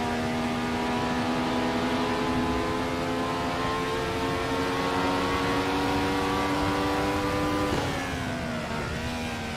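Ferrari 312T Formula 1 racing car engines in a sim racing game at Silverstone, a loud continuous high-pitched whine holding steady, then dipping briefly near the end as revs shift, with a second engine note layered underneath.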